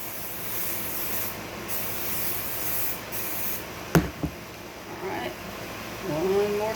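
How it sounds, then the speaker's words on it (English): A can of hairspray mists over fine hair in one long, steady hiss lasting several seconds, followed by a couple of sharp clicks, soft rustling, and faint handling noise. "All right, now, final spray."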